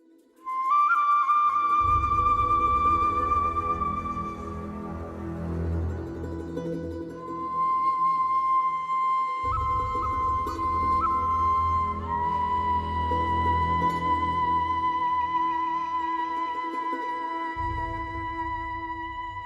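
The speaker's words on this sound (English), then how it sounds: "a relatively dark and ominous track might sound like this" A dark, brooding orchestral piece from the game Total War: Rome 2, with low sustained drones and a thin high melodic line, swelling and fading in broad phrases, no voices.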